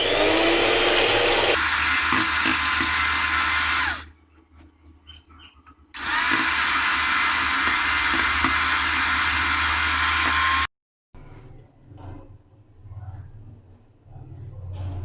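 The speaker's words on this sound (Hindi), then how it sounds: "सबसे पहले हम यहाँ पे अंडों को जो है बीट कर लेंगे।" An electric hand mixer beats eggs for a stovetop cake batter, whirring loud and close in two long continuous runs separated by a quiet pause, then stopping, followed by faint handling noises.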